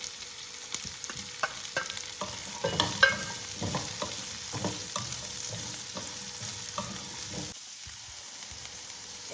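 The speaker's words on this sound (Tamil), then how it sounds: "சின்ன வெங்காயம் வந்து நல்லா வதங்கணும், கலர் கொஞ்சம் சேஞ்ச் ஆகணும்" Shallots and mango ginger sautéing in a pan, a soft continuous sizzle and crackle with scattered stirring clicks and scrapes, steady and fairly quiet with no talking.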